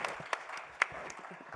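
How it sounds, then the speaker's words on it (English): Audience at a design panel event applauding a speaker, scattered clapping with a couple of sharper individual claps standing out, fairly faint and brief. "We can have a round of applause"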